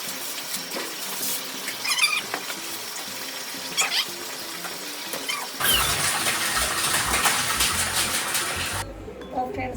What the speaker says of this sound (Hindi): इसको बड़ा मज़ा आता है पानी से खेलने में